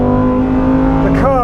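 Lamborghini Huracan Performante on P0 tyres driving on a track, a loud steady engine drone with harmonics, shifting pitch near the end as it changes gear, with a voice talking over it.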